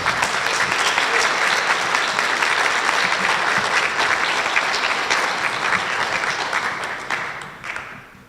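A school district spelling bee audience gives a sustained round of applause. The dense, even clapping carries on for several seconds and then fades out toward the end.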